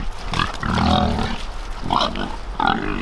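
Pigs grunt and snuffle up close as they are fed, with several low, rough grunts and a few higher squeals coming in irregular bursts.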